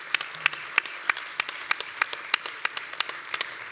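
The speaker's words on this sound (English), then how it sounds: "Big applause." Sparse, distinct claps ring out at a steady pace, only a handful of hands clapping, fairly faint and even, for a speaker in front of an audience.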